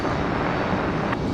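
A Boeing 757 jet bound for Atlanta roars loudly and continuously during takeoff at Raleigh-Durham International, a thick, close engine rumble with no talk.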